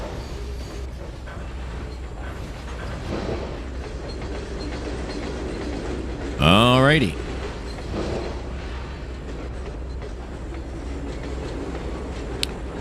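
A train in the Trainz 2022 video game rolls steadily along the tracks with a continuous rumble and clatter, a brief rising squeal midway, while someone speaks briefly over it.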